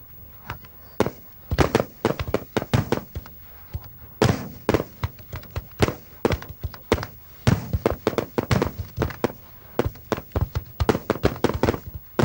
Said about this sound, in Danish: Det var H.C. Andersen Fyrværkeri fra Aarhus, der genskabte slaget i Køge Bugt.